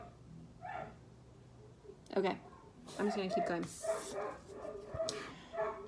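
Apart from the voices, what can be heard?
dog barking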